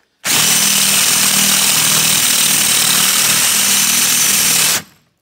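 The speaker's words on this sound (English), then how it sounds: "here's the old drill bit" A power drill with an old, worn bit, pushed hard, runs loud and steady for several seconds, grinding through material with a rough buzzing whine, then stops abruptly.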